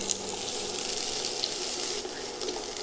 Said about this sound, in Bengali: একই তেলে 5 ফোড়ন ভেজে নেব।